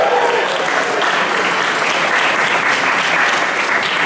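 A crowd at a Union Hall ribbon-cutting event in Cincinnati breaks into sustained, even applause, a dense wash of clapping that holds steady without letting up.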